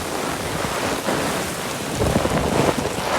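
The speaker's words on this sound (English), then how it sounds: "it just started raining really bad here" Heavy storm rain pours down steadily amid tornado-warning weather, a dense wash of drops with gusty bursts that grows louder toward the end, with no voices.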